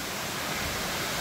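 Water cascades down a waterfall in a steady, broadband roaring rush that fills the whole clip evenly, moderately quiet and unbroken, with no voices.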